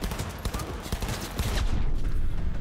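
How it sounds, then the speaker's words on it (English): Rapid bursts of gunfire in a Cyberpunk shooter game strike the player, a dense clatter of shots through the first half, then a steadier wash of combat noise. "Oh my god, I was getting shot and I didn't even notice."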